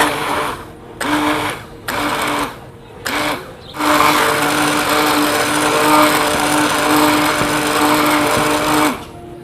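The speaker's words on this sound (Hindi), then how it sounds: "ये अभी हम इसको दही में डाल के ग्राइंड करेंगे थोड़ा।" An electric grinder blends green chutney made with yogurt, coriander powder, cumin powder and salt, running in several short loud bursts with pauses before settling into one long continuous whirring grind.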